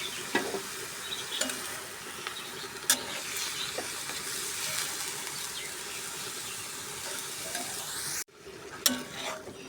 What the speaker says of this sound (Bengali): আর এই দিকে আমার ভাজি হচ্ছে।